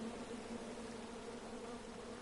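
Angry bees from a chopped-down tree buzzing in the video game King's Quest, a steady droning hum that holds evenly throughout with no voices.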